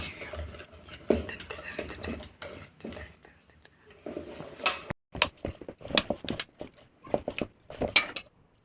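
Bajji batter is mixed with water in a bowl, making soft, irregular clinks and wet stirring taps close by. The sounds are quiet and scattered, and a voice talks softly between them.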